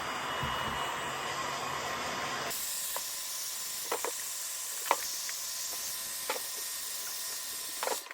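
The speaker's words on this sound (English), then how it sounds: "I will use low heat and just use a little bit of warm air just to heat up the lotion so I can start applying the next" A hair dryer set to low heat blows warm air onto boot-polish lotion. It starts as a loud, steady whoosh, then drops to a softer hiss broken by a few light clicks and taps, close by with no speech.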